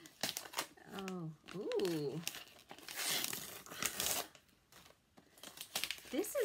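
Gift wrapping paper is ripped and crinkled open by hand in bursts of tearing and rustling, with brief excited vocal exclamations over it.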